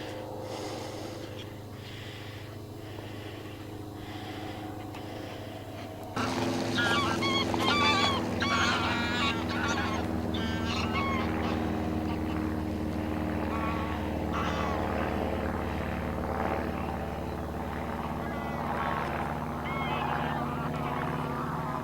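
Geese honking and squawking repeatedly over a low steady drone at Grafham Water, calls overlapping and growing busier partway through, moderately near.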